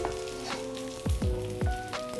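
Minced garlic sizzling in olive oil in a hot cast iron pan with the burner off makes a steady crackle, broken by a few sharp pops and spatters near the mic, with no voices.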